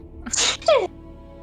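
A single sharp sneeze, close and loud, a quick burst with a short vocal tail.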